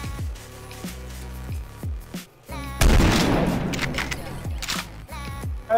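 A gun fires inside the Garry's Mod sandbox game, a loud burst of several rapid shots in the middle of the clip, set among music and other in-game sounds.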